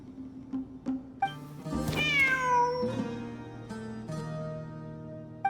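A cat meows repeatedly in Genshin Impact, several drawn-out, tonal cries spaced across the clip against quiet game ambience, close and clear with no talking.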